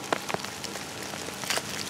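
Light early rain in the dry sertão backcountry, the first of the season, pattering steadily with a few sharper drop taps standing out near the start and end, nearby and without talk.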